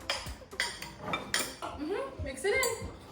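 A fork scraping and clinking against a bowl while mashed bananas are mixed for home baking, irregular close metallic taps and scrapes over a few seconds, with a voice heard briefly.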